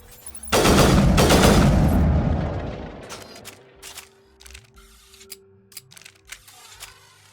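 A single rifle blast in the Mass Effect video game, a loud close report ringing out for about two seconds before decaying into faint, scattered clicks and soft in-game ticks.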